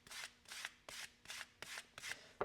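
Sandpaper rubs back and forth over the beveled edge of a veg-tan leather wallet in six quick, regular rasping strokes, close but quiet.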